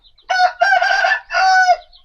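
A rooster being treated for a pale comb crows and clucks loudly and close up in three distinct bursts, with short gaps and no voices.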